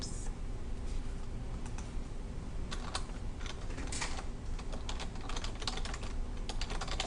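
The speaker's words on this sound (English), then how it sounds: "We're going to type branch" Rapid typing on a computer keyboard, a continuous stream of crisp key clicks with occasional louder taps, close and steady over a low background hum.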